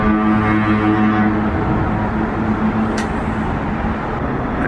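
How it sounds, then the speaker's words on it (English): A deep, steady foghorn blast from a cruise ship at sea in fog sounds for over a second, then fades into a continuous low engine rumble. "blowing their own foghorn"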